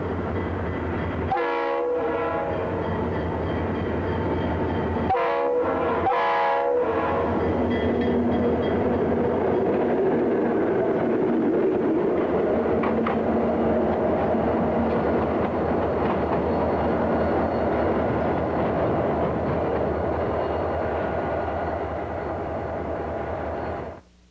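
Two Florida 40-2 series diesel locomotives, units 415 and 414, haul a northbound freight train a few miles south of Cocoa. Their loud engine drone and horn blasts sound first, then the wagons roll past steadily for the rest of the clip.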